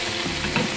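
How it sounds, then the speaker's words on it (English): Scallops sizzling in a pan as hot butter is spooned over them, a steady crackling fry with a slight swell near the end, brief and close. "So I'm gonna just wash it with butter."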